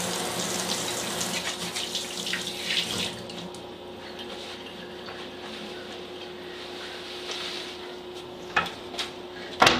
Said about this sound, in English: Before we work with the food, we should always wash our hands.